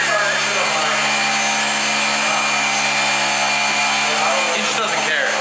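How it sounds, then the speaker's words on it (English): A polisher running during a car wrap install, a steady loud whirring drone that holds without a break throughout. "The polisher going in the background."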